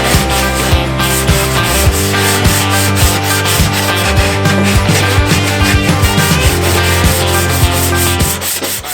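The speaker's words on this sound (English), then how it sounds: "starting off with 400 grit, new sticky pad on here" Continuous loud rasping of 400-grit sandpaper on a sticky pad scrubbing paint on a Harley-Davidson FXR part, a rhythmic back-and-forth rubbing with no pauses and no talking.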